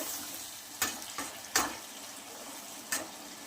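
Chicken masala for a potato curry frying in a pan after a splash of water, a low steady sizzle broken by a few sharp spatula scrapes and clanks, with no talking.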